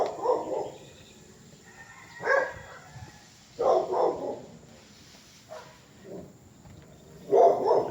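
A big male dog barks in several separate bursts, a few gruff woofs at a time with quiet pauses between, fairly close and loud with no talking.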